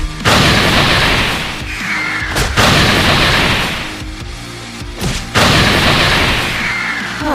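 A dazzling electrified explosion in a sci-fi fantasy battle against lizard men: three heavy, sustained blasts of crackling roar, each loud and dense, separated by brief dips.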